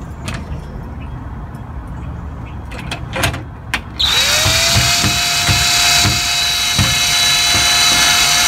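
A power drill drives 1.5 inch screws into the latch plate of an Andersen 2000 storm door, a steady loud whirring whine after a few light knocks, close by, with no speech.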